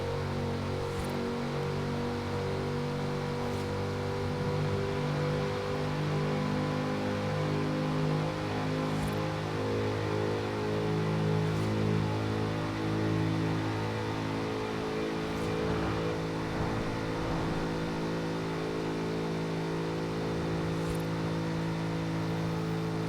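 Twin-turbo 1955 Chevrolet 150 Utility Sedan engine in Forza Horizon 4, a steady droning roar with strong harmonic hum, held at near-constant revs for a long stretch, with a brief dip and surge partway through, no voices.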